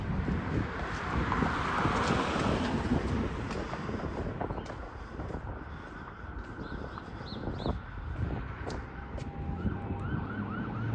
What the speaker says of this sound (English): Some siren there in the distance.